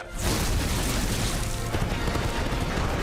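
An animated explosion in Tangled: The Series bursts in suddenly, then settles into a loud, sustained rumbling roar with crackling debris that fills the whole stretch and has no speech over it.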